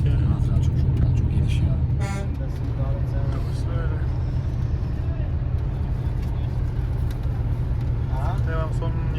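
Steady low engine rumble and road drone inside a moving long-distance bus, constant and close throughout, with people talking over it.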